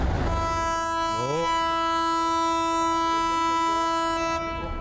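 A massive ship's long, deep horn blast rings out steadily and loudly for several seconds as the vessel Prelude slips out of dry dock with tugboats nearby.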